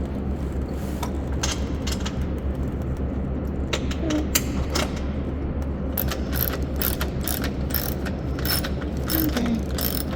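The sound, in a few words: tightening awning to its bracket, ratchet clicking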